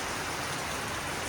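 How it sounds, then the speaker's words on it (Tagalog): Heavy storm rain pours down in a dense, continuous hiss, loud and close with no pauses. "Sobrang lakas ng ulan."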